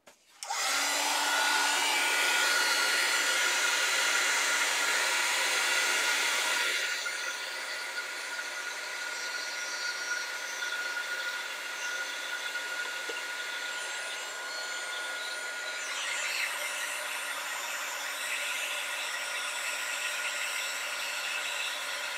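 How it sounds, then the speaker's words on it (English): Embossing heat tool running as a steady whirring blower hum, loud and close, dropping slightly in level after several seconds and then continuing evenly with no speech. "I'm going to fire up the heat tool."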